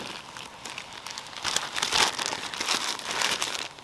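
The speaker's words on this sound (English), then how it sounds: "Plastic bags." Plastic bags crinkle and rustle up close, bursts of crisp crackling that swell and ease irregularly with handling, no talk over it.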